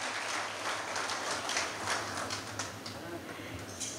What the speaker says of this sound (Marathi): अथर्व कर्णिकचं आपण सगळीजणं परत एकदा टाळ्या वाजवून